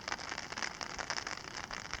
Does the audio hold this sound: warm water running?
no